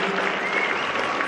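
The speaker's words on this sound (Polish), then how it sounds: "Jak widzicie, judo, brawa dla nich, tak?" Applause from an audience for a group of judo athletes at a school training event, a steady dense clapping that fills the whole brief moment without pause.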